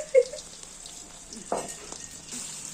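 A pickle mixture with garlic is stirred in a pan under a light sizzle, with a sharp utensil knock near the start and a short scrape midway.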